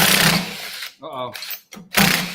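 A battery-powered tool runs on a weak battery while electrical gear is being scrapped, giving a short, strained whir that bogs down and stops between louder noisy stretches.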